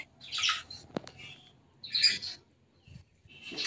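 Pet budgerigars give short bright chirps and squawky calls in a few scattered bursts, quiet and fairly close, with a single sharp knock between them and no speech.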